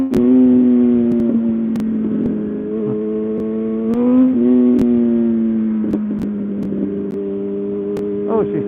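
A Yamaha R1 motorcycle engine idles and revs in steady rising and falling tones, with a few sharp backfire pops cutting through, close and loud.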